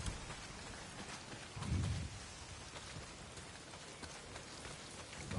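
Heavy rain pours steadily in the Days Gone video game, a dense, continuous hiss that rolls on throughout with a brief low rumble partway through and no voices.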